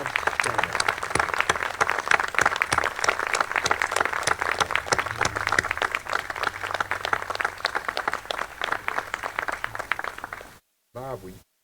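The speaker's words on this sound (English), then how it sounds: "let's give Bob a round of applause" A crowd at a university groundbreaking ceremony claps loudly and steadily for a departing chancellor, dense applause running about ten seconds before cutting off, followed by a brief tail.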